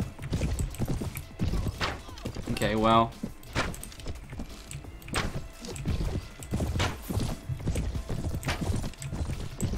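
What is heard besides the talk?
horse hooves galloping in video game Mount & Blade: Warband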